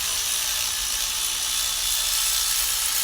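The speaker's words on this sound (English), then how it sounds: "This is where the electric ratchet's absolutely great. Comes in its own when you're whipping spark plugs out." An electric ratchet whirs steadily while backing spark plugs out of a Ford Mondeo 1.8 engine, a close, loud, continuous mechanical buzz with no voices.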